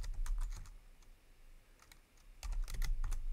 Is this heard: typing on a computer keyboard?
yes